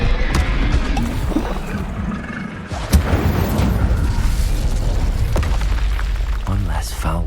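Incendio, a fire spell cast during combat in Hogwarts Legacy, roars as a sustained whooshing, booming blaze with a sharp impact near the middle and continuous rumble throughout, layered with other game effects.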